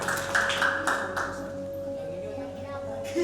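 A few people clap for a child named Juna during a waste-management education session, quick light claps near the start that fade out beneath a steady tone, with a voice talking over them.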